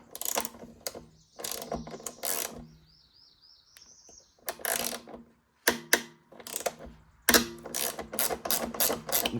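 A socket wrench ratchets in quick clicking bursts while loosening nuts on a 2007 Kawasaki Ninja 650R motorcycle during an ignition coil change, close and crisp, with short pauses and a faint chirp between runs.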